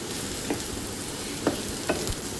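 Curry leaves frying in hot oil alongside carrot and cashew, a steady sizzle with a few soft stirring scrapes and pops.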